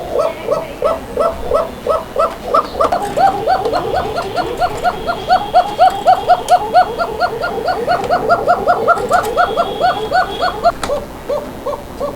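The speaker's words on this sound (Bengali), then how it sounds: "চলুন আমরা কোকার ডাকগুলো শুনি" Many koka pigeons coo continuously nearby, a dense rhythmic stream of deep, rolling calls overlapping one another.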